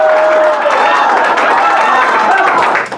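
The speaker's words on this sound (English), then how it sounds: "So can I get your best laughter and applause?" An audience at a student showcase bursts into loud laughter and applause, a dense crowd roar with clapping and cheering that fades out at the end.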